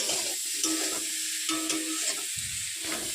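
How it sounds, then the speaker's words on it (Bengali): Water spinach being stir-fried in a pan, with a constant sizzle under repeated scraping and tossing strokes of a spatula, close and steady, no talk. "সবজিটাকে ভালোভাবে নেড়ে নেব সবজিটা কিন্তু নাড়তে নাড়তে অনেকটাই কমে এসেছে এবং ভাজা ভাজা হয়ে গেছে"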